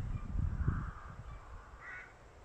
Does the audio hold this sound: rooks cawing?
yes